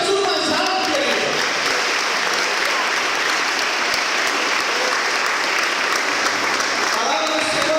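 A church congregation claps loudly for Jesus during a lively service, the applause thick and continuous from start to finish with faint shouts mixed into the crowd noise.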